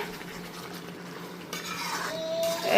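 Beef being mixed with lime juice in a bowl during home cooking, a soft brief stirring and squelching with a light metallic clink near the end.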